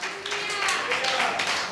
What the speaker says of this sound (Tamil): கரங்களை தட்டி ஹல்லேலூயா சொல்லுவோம்.